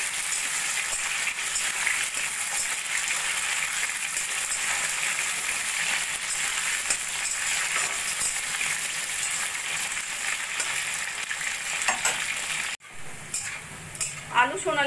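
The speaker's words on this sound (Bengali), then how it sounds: "আলুগুলো আমি একটু সোনালি করে ভেজে নেব।" Diced potatoes fry in hot oil with a loud, steady sizzle that runs unbroken, then cuts off sharply near the end, followed by a few faint clinks and a voice in the background.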